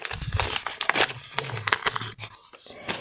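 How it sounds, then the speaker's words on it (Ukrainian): A paper sticker packet being peeled and torn open, with close crinkly tearing and rustling bursts, a short pause and then more handling. "Тож, відклеюємо спочатку пакетик."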